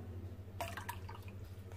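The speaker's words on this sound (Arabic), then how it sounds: "بعد كده احط عصير الليمون" Lemon juice is poured into water for making pickles, a short, close liquid splash and trickle lasting under a second over a quiet background hum.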